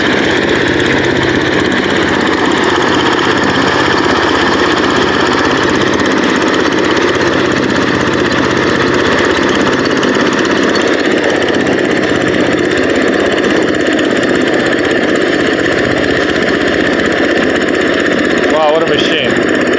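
A rice cleaning machine's engine runs steadily throughout, a loud continuous drone with a low throb and mechanical rattle, with a voice speaking over it.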